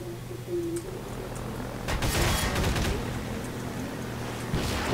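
Bursts of gunfire from the video game Half-Life 2, a dense volley in the middle of the clip over steady background game noise, with a few isolated shots before and after.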